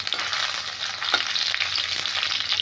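Fish pieces fry lightly in hot oil in a home kitchen, giving a continuous close sizzle with soft crackles and a brief stirring clatter, no voices.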